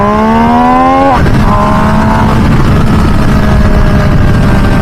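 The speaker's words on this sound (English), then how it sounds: "The exhaust sound is fantastic." A 2023 MV Agusta Dragster 800RR SCS motorcycle engine revs up with a rising whine, then settles into a loud, throaty exhaust roar that holds steady nearby.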